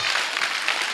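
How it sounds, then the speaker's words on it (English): An audience applauding at a Success Africa event in Ghana, a dense, continuous patter of clapping hands for about a second. "So you should rather clap, clap well for the money."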